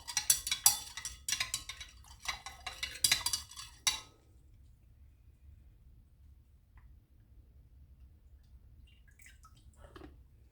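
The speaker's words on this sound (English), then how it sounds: "use the stirring rod" A glass stirring rod clinks and scrapes in a gold refining solution for a 14k gold necklace, quick close ticks and taps for about four seconds, then near silence with a faint clink at the end.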